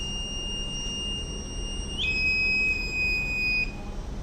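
Buzzer alarm on an LPG gas sensor, a steady high-pitched electronic tone that shifts pitch about halfway through, sounding continuously over a low background hum.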